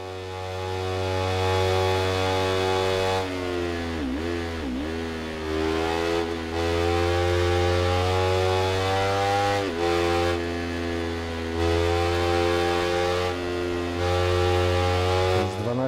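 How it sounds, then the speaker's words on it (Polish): A motorcycle engine in the Ride 3 racing game holds a loud, steady, buzzy drone, its pitch dipping and climbing repeatedly as the bike shifts and revs, with no talking throughout. "Fajny jest ten dźwięk silnika."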